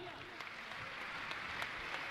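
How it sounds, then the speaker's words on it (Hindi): An audience at a religious discourse gathering claps, a soft, dense patter of applause that sounds somewhat distant and runs steadily for the whole short stretch. "तालियां तो बजाइए आप।"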